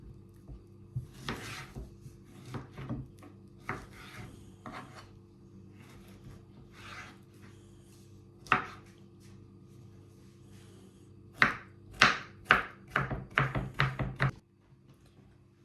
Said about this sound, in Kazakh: Міне мен барлық 4 бананды да турап алдым.